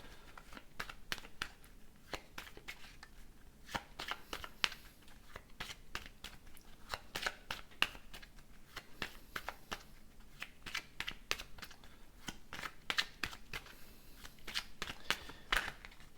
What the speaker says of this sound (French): Je vais battre du coup le Béline